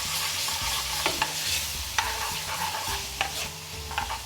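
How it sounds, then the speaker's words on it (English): Tomato paste frying for an Indian restaurant-style chicken jalfrezi curry, a close steady sizzle with repeated spoon scrapes and taps against the pan, no talk. "Right, we want to fry that out for about 30 seconds."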